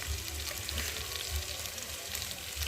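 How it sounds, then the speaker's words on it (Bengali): Steady crackling sizzle of potatoes and taro frying in hot oil, close and continuous, with soft stirring scrapes underneath. "আলু আর কচুটা ভালোভাবে ভাজা হয়ে গেছে"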